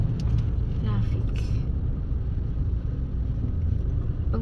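Road traffic at a crossing during light rain at a festival: a steady low rumble of cars and engines throughout, with a few brief higher chirps and clatters near the start and a voice speaking over it.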